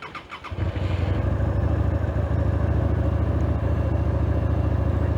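A Musatti Milano S400 motorcycle engine fires up and settles into a steady, close, throbbing idle that runs continuously without speech.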